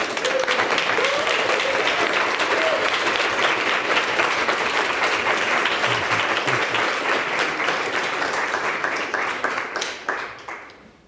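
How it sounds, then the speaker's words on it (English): An audience applauds a guest lecturer, Daniel Biau, after his talk on cities and bridges. Sustained, full clapping holds steady for about ten seconds, then thins out and fades toward the end. "Let us give a great applause to our guest."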